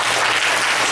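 A church congregation applauding, celebrating the senior pastor and his wife's 50th wedding anniversary, a brief, dense burst of clapping from many people, loud and steady.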